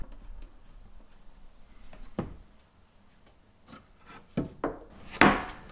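A wooden hangboard is being removed from a ceiling: scattered knocks, scraping and rubbing of wood that build toward a few louder clunks at the end, with no talking.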